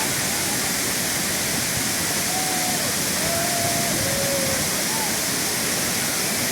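Burney Falls in northern California pours down in several cascades, a steady full roar of falling water that never lets up, heard from nearby with no other sounds standing out.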